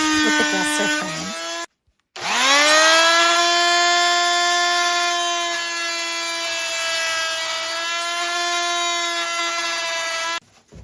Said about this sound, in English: Using my oscillating tool, I cut the original dowel flush with the dresser frame.